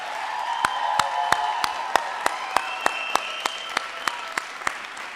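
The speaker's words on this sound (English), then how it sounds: "Can we please have a round of applause for Tita Cecile, Mom and Dad, and of course, the bride and the groom." Wedding guests applauding the family and the bride and groom at a reception, with steady claps ringing out at a fairly even rhythm over a constant wash of room sound and tonal background.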